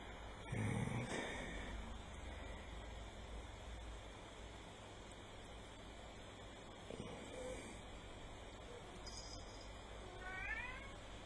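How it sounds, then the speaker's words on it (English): A cat meows loudly near the start, with a second fainter meow later, over a quiet room hum during a model-kit building session at a workbench. "Oh, shush cat."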